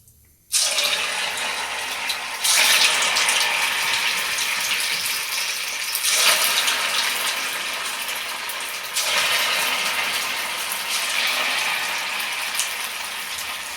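Cabbage manchurian balls drop into hot oil and fry with a loud, steady hiss that surges sharply each time a new batch goes in, heard alone with no talking.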